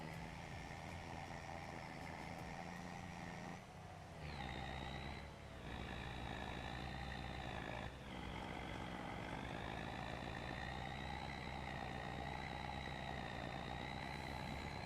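Truck pulling a log trailer in Farming Simulator 25, a steady engine drone with a brief dip and rev change partway through, continuous and fairly quiet with no talk.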